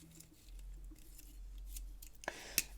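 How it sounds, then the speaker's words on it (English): Small scissors on a Leatherman Wave+ multitool making a couple of quick, faint snips against quiet background. "we have some scissors, which they're on the small side, but they do work really nicely"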